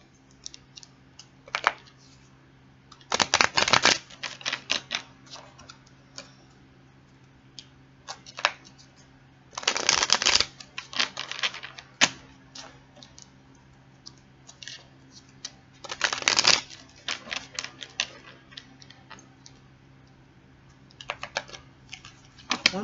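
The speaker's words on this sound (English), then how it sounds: "One more shuffle here," Tarot cards are shuffled in several loud bursts of rapid riffling and clattering, with scattered lighter taps and card handling between them, close up in a quiet room.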